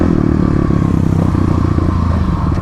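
A Kawasaki KLX351 and a Yamaha WR250R dual-sport motorcycles drag racing, engines droning loud and steady close by with rattly clatter throughout.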